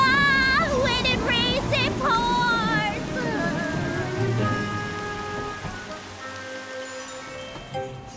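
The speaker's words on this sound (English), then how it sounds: "Oh, it's raining." Rain falls in an animated children's show about a little train, a steady broadband patter that continues throughout, with voices and musical tones over it at first before the rain carries on alone.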